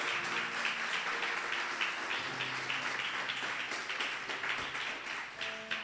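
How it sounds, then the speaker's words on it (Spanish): Sustained applause from a church congregation during a Sunday service, steady clapping filling the room for several seconds, with faint musical tones underneath. "¿Cuántos le dan un aplauso al Señor?"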